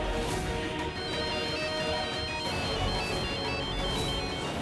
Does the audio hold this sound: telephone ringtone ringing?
yes